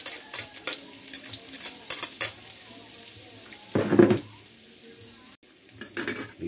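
Onion and garlic sautéing in a pan alongside ginger, giving a steady close sizzle with stirring scrapes and a brief louder burst of frying midway.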